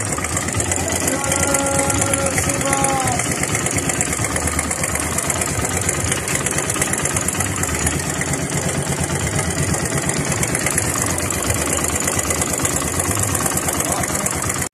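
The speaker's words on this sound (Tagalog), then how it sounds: "yan yung tunog ng motor ko sa umaga sa start up" Keeway Cafe Racer 152 motorcycle engine idling steadily after a cold start-up, a continuous close mechanical drone with a fine rapid ticking running evenly throughout, with no talk.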